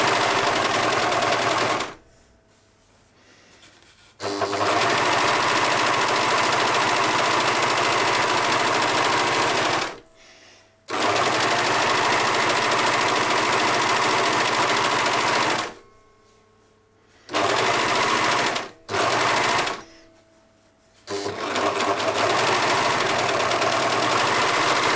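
Fast, steady whirring of a sewing machine stitching the armholes of a black and white striped vest, running in long loud bursts broken by several brief pauses.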